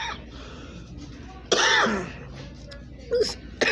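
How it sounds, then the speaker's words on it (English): A woman coughs and clears her throat once in a sharp, close burst, followed by a smaller cough a moment later against a quiet indoor background. "excuse me, while I'm coughing while I'm doing this video."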